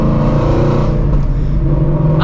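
A Shelby GT350 Mustang engine runs loud and steady up close, its deep rumble holding throughout with a slight rise near the end, no voices over it.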